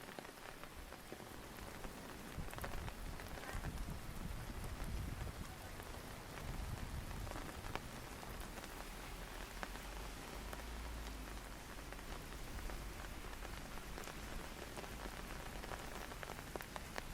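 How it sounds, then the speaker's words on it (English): Steady rain patters on surfaces around a walker in London in autumn, a soft, continuous wash of drops with occasional louder splashes, fairly quiet and close, with no talking. "having a nice rainy walk back to the station"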